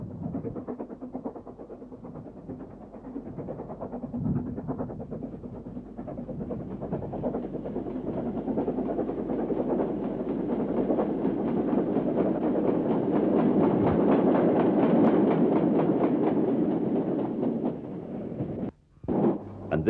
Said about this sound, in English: Standard Class 5, number 73117, heads a freight towards the Southampton line.